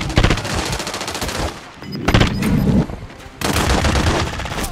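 Loud, sustained automatic gunfire in Call of Duty MW3 on the Shipment map bursts in long, dense volleys separated by brief pauses.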